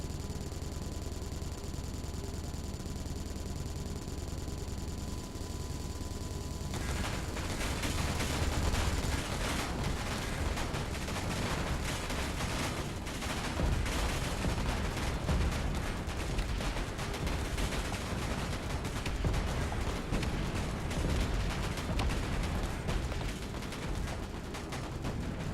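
Missile turrets fire in a space combat video game, a dense continuous rattle of rapid shots and mechanical clatter that kicks in after a low humming stretch and keeps pounding loudly to the end, no voices.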